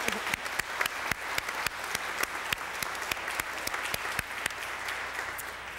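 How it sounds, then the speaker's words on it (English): Audience applause at a city address event, steady, moderately distant clapping from a sizable crowd filling the room without talk. "please join me in a round of applause for Mr."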